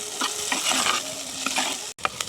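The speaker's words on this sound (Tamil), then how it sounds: "இப்போ வந்து நல்ல வடிவாக பிரட்டி விடுவேன் வெங்காயம் பச்சை மிளகாய் கொஞ்சம் வதங்கட்டும்" Onions and green chillies frying in a pan while being stirred, with a steady sizzle and repeated close spatula scrapes in an uneven rhythm.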